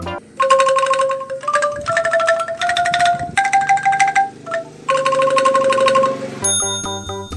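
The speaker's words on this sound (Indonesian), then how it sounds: "Alat musik angklung berasal dari Jawa Barat," Angklung, the shaken bamboo instrument of West Java, rattles out a bright, tremulous melody of sustained pitched notes in several phrases, loud and close, with a chiming electronic tone cutting in at the end.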